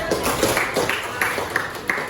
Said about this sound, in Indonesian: Ya, tepuk tangan kita sisir.